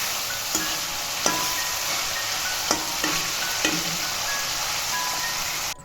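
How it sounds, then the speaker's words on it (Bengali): Paneer pieces shallow-frying in a pan give a steady, close sizzle throughout, broken by a few sharp taps of a utensil against the pan. "পনিরটা আমি এখানে একটু হালকা লাল লাল করে ভেজে নেব।"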